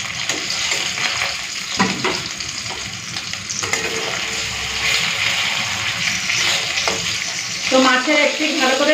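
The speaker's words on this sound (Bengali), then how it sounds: "এখন এই মাছগুলোকে ভেজে নেব।" Fish fry in hot oil with a loud, steady sizzle and crackle up close, broken by a few stirring knocks and a brief scraping sound toward the end.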